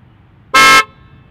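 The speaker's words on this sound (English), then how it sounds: "it makes this sound when you honk at somebody that is cutting you off" A single short, loud electric car horn honk, clear and close, with quiet background before and after.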